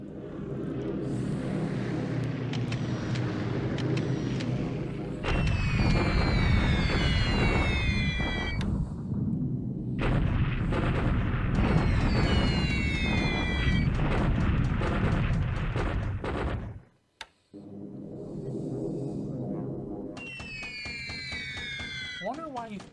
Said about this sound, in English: Wonder why he's bombing Mandalay.